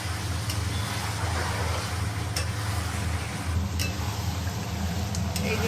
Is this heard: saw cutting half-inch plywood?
no